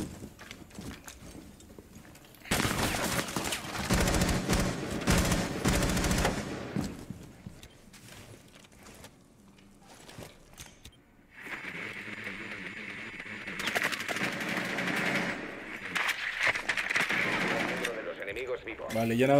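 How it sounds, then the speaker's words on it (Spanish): Bursts of rapid gunfire from Rainbow Six Siege on PC crackle in long stretches, loud and dense, with quieter gaps between and people talking over parts of it. "Que dispare aquí a través de la puerta"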